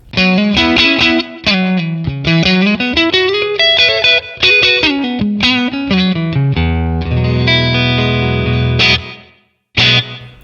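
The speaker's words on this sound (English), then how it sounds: "Then add the spring reverb." An electric guitar through a TONEX FX pedal plays a run of notes with a splashy spring reverb tail, ending in a sustained chord, a brief silence, then a final strum.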